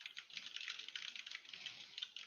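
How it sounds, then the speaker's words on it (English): Furious typing on a computer keyboard makes a steady, fast patter of light clicks, faint and continuous with no pauses, and no voices over it. "As I hear furious typing."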